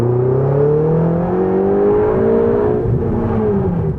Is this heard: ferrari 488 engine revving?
yes